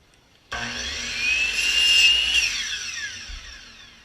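A power saw cuts a 3/4 by 3/4 inch wood strip for a toboggan bumper board: the blade spins up abruptly, whines through one continuous cut that peaks midway, then winds down, close and alone.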